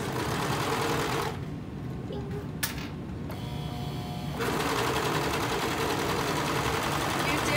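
A serger sewing machine stitching fabric runs steadily and close by with a continuous mechanical whir that briefly dips quieter in the middle before resuming at full speed.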